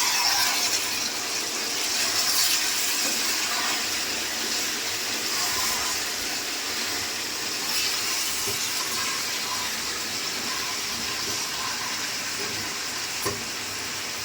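Chicken kasha with ginger juice is stirred in a hot pan, making a loud, continuous sizzle with scraping stir sounds layered through it, close up and without talk.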